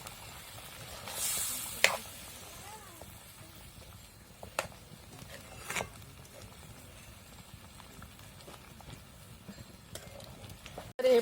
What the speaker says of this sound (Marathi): आणि हे आता मी चांगलं हलवून घेते